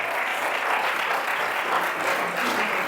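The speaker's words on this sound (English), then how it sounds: "Let's hear it for Jeffrey." An audience gives steady, sustained applause, a dense even patter of many hands clapping throughout.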